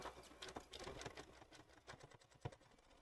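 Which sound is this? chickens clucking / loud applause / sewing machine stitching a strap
sewing machine stitching a strap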